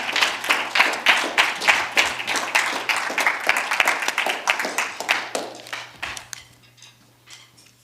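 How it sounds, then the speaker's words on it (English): A church congregation claps for two song leaders after worship music, sustained dense applause that tapers off over the last couple of seconds, with a low steady hum underneath. "Give them a round of applause while I fix my mic"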